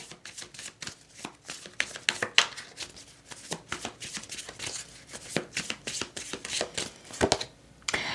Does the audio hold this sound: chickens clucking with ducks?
no